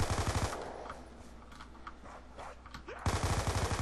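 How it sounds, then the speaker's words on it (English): Bursts of MP5 submachine gun fire in a video game, a rapid rattling volley at the start, a quieter stretch of scattered game sounds, then another fast close burst at the end. "I'm just gonna go ahead and empty the last little bit into these guys"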